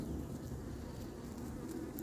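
Honeybees hum steadily around the hives of an outdoor apiary, a continuous soft buzzing with faint passing insects and no voices.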